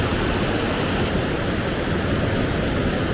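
Sangsu Waterfall on the Thakhek loop in Laos, a constant dense roar of falling water, loud and unbroken throughout, with no voices.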